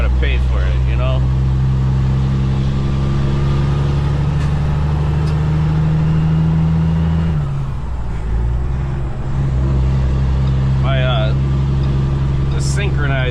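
A propane-hauling heavy-haul truck, its transmission past a million miles and its clutch newly replaced, drones loudly and steadily, with a brief dip that suggests a gear change. Someone talks over the engine.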